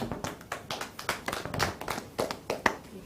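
A small audience claps for a speaker at a talk on saving and investing, with individual hand claps distinct and uneven, sparse rather than a full ovation, moderately quiet in a room.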